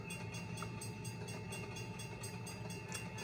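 Passenger train hauling a rake of DB coaches in the Trainz 2009 railway simulator, a steady continuous rolling rumble with a faint high whine throughout, no voices.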